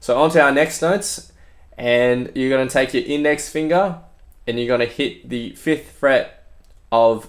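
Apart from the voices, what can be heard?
No distinct noise like a dog, phone or traffic.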